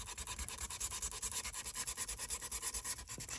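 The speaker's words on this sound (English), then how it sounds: "This I'm going to sand so it's got some" Hand sanding of a junk journal piece, steady rhythmic back-and-forth scraping strokes, close up and fairly quiet, with no talking.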